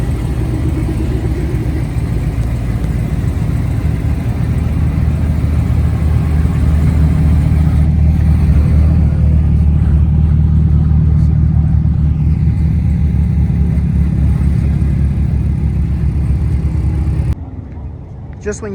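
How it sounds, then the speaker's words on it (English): A Camaro pulls into a nighttime car meet, its engine rumbling low and steady close by for most of the stretch, with crowd chatter around it before the sound cuts off near the end. "We got another Camaro coming up."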